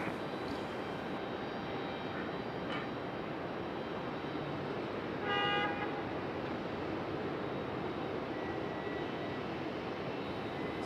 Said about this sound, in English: There's our Boston Bruins JetBlue there.